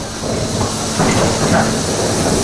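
A subway train sound effect at a Universal Studios attraction rumbles and hisses steadily, a loud, close mix of rolling rail noise and air-brake hiss with no voices.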